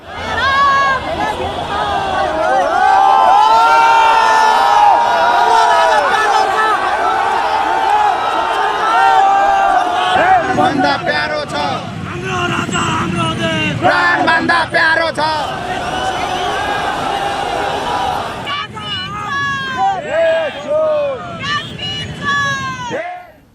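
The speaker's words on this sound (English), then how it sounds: "The huge crowd, as you saw, chanted slogans" A huge crowd of about 10,000 royalist supporters chants political slogans, a loud continuous roar of many voices with rhythmic shouted phrases that continue throughout, heard close and dense.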